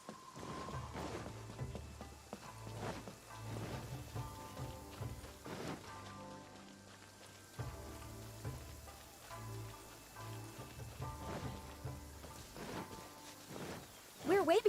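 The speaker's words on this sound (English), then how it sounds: "I love listening to the rain from the courtyard" Rain falls in a courtyard in Genshin Impact, a soft patter of drops against surfaces underneath game music with sustained tones, continuing quietly throughout.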